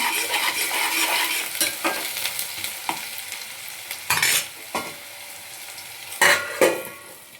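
Ridge gourd curry with onions sizzles in a pan under repeated stirring. Spoon scrapes and clanks against the metal come at uneven intervals, with louder knocks toward the end, all close up and without talk.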